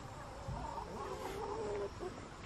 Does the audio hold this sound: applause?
no